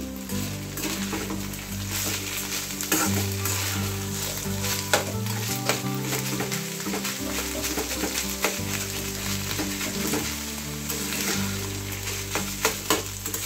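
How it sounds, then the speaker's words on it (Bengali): Vegetables fry in a pan and are stirred. A steady close sizzle runs throughout with intermittent scraping and clinking of a utensil, all over a continuous low hum in the background. "এবার ভালো করে ভেজে নেব।"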